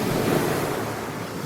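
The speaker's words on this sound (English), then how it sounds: "they were being pounded by the waves and the wind" Strong headwind on a lake driving waves against a boat: a steady, dense roar of wind and churning water with gusting wind noise, loud and continuous throughout.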